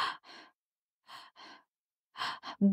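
Quick, shallow breaths drawn in short puffs, in pairs separated by pauses, close and soft, ending with a brief voiced sigh.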